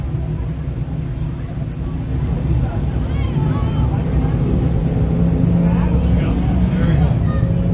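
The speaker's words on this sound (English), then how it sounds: "Heat race number 3 for the Whitesboro Plow Shop Dirt Car 358 Modifieds ready to roll trackside" Dirt modified race cars of the 358 class roll around a Can-Am Speedway track before a heat race, a steady loud low engine rumble with wind buffeting the microphone throughout.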